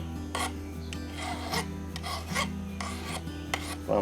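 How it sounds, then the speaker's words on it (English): A hand file rasps steadily along the edge of shears during sharpening, with repeated strokes roughly every half second to second, close and fairly loud with no talking. "we'll come down here and steepen the file up just a little bit and go right on the very edge"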